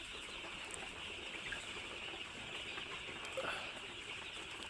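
A flock of 12-day-old colour bird chickens on a farm, giving a faint, continuous chorus of high chirping with no single call standing out.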